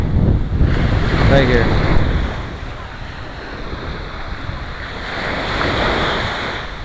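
Surf rolls and breaks at Fort Lauderdale beach, a steady close roar with gusting wind buffeting the microphone, and a voice speaks briefly near the start.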